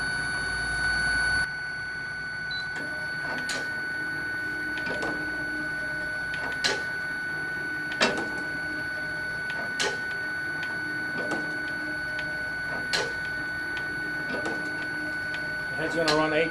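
A Kegel Kustodian ION bowling lane machine runs its oil head test, giving a steady mechanical hum with a string of sharp periodic clicks and clacks as the head travels back and forth.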